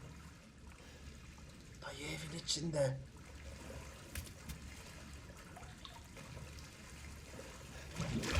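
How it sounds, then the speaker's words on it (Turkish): A toilet flushing inside a house in the video game Resident Evil 7, a soft rushing, trickling swell of water that builds and fades over several seconds, heard faintly beneath someone talking. "Allah kahretmesin biri sifonu çekti galiba."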